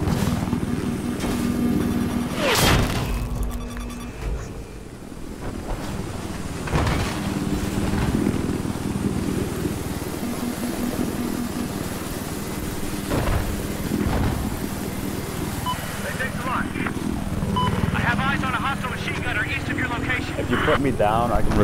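Enemy helicopter in Battlefield 4 hovering right overhead, a steady low rotor drone running throughout under constant talk and gunfire-like bursts.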